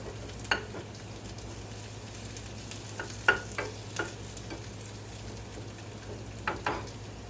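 Food frying until crispy in a pan, a soft low sizzle with scattered light scrapes and taps from stirring, quiet and close, no speech.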